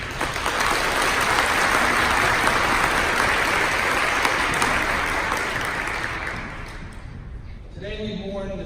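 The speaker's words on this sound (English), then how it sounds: "So how about a round of applause for them?" A crowd at a mosque vigil breaks into a loud, sustained round of applause that gradually thins and fades, and a speaker's voice comes in as the clapping dies away.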